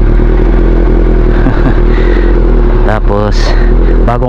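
A Honda CB400 motorcycle engine idles loudly nearby after starting, a steady throbbing rumble with some clatter and metallic scraping, while a voice talks over it.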